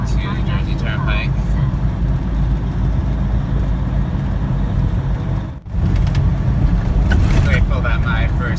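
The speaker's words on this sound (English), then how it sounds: "driving through on an interstate early in the morning" A truck cruising on the I-95 interstate through the Bronx in the early morning, a steady, loud road and engine rumble that carries throughout, with one brief dip before it resumes.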